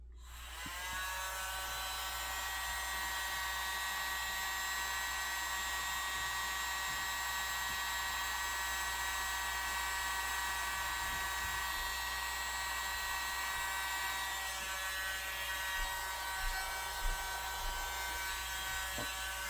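Hair dryer blowing steadily over metallic silver Dutch pour paint on coasters, a constant close whirring hum with a bright motor whine that holds unbroken for nearly twenty seconds.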